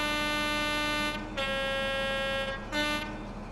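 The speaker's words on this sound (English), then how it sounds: "Sound the horn." A British diesel train's horn in Train Sim World 3 on the Midland Main Line, two sustained multi-tone blasts, the first long and the second short, over a steady engine hum.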